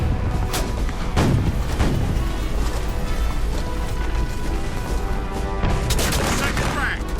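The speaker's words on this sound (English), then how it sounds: "And the Americans fired right into the faces of these men." Musket volleys and cannon fire in a Battle of New Orleans reenactment, with several sharp booming blasts at irregular intervals over a continuous roaring din, loud and close.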